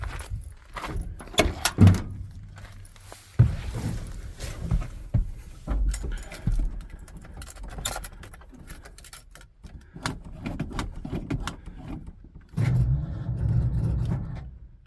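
Keys jangle and a door thuds near a Dodge work pickup truck on a farm with a weak, draining battery, then the engine cranks and catches toward the end, running as a steady close rumble.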